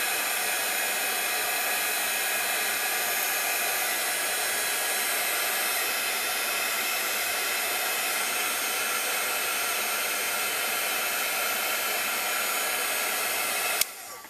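A heat embossing tool blowing hot air loudly and steadily for about fourteen seconds, a constant hair-dryer-like whoosh close by, then it clicks off abruptly near the end.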